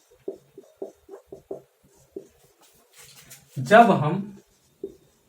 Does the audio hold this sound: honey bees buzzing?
no